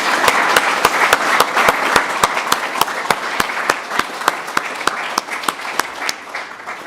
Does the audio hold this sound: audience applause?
yes